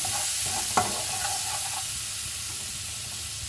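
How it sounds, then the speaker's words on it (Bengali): A pan of chili and turmeric powder loosened with a little water gives off a hissing, steamy sizzle, with a brief clink and scrape of stirring early on, close and steady, with no one talking. "অল্প পরিমাণ জল দিয়ে ভালোভাবে নেড়ে নেব"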